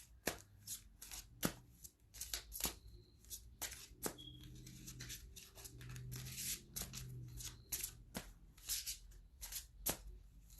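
Tarot cards shuffled by hand in a quiet room, a steady run of crisp riffling flutters broken by sharp slaps and taps as the deck is squared, close and fairly loud with no talking.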